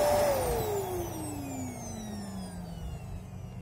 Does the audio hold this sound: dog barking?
no